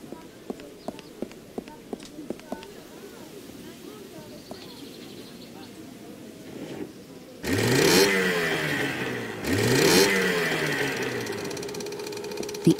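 A small motorboat engine in the Secret Files 2 video game follows a run of light clicks, then starts and revs in two loud, close bursts, with a voice speaking alongside.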